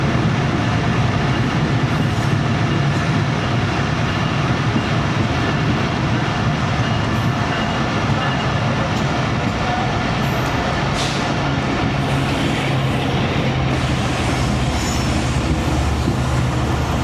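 The Awam Express train arriving at Setharja station: a loud, continuous rumble and rattle of rolling railcars with clickety-clack from the wheels and occasional metallic squeals, close by and without voices.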